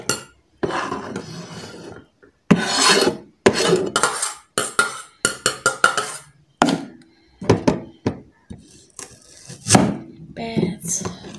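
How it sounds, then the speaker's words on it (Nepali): Pots, pans and cutlery clatter and knock in a bursty, uneven rhythm while dishes are scrubbed after chopping vegetables in a home kitchen, close and fairly loud, with a voice speaking intermittently between the clanks. "यो चाहिँ काटिसकेर चाहिँ म भाँडा माझ्छु।"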